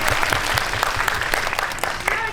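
Audience applause after a film screening talk, a loud, continuous burst of many people clapping close by for a couple of seconds, with faint voices underneath.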